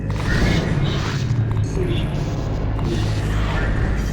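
Bridges grinding into place after a button press in Half-Life 2: Episode One, a steady loud mechanical rumble with low droning machinery and faint creaks throughout.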